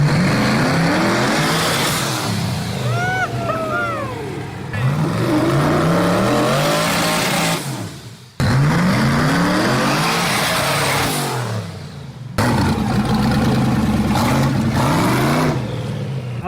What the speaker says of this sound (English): I was just bouncing off the rev limiter just to hear it